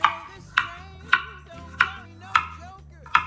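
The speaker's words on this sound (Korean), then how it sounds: "요 마늘을 사왔던 거예요 집사람이 그래서 썰어서 사용을 하고 있습니다" Garlic being sliced thinly with a kitchen knife on a cutting board: six sharp, evenly spaced chops about half a second apart, close and clear, over a quiet background.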